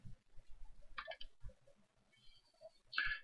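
Several sharp computer mouse clicks in a quiet room while a Corsair Vengeance K95 keyboard's G-keys are being set up, landing as short separate bursts with faint handling noise between them.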